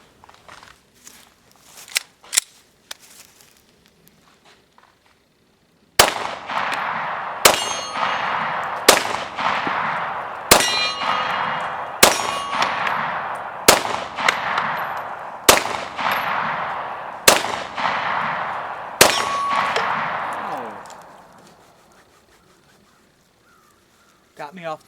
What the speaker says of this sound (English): so I'm just going to shoot 10 rounds of each of these different kinds of ammo